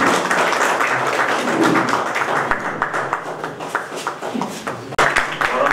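An audience applauds guests at a celebration event. The crowd's clapping is a dense, continuous patter of many hands, with faint voices mixed underneath.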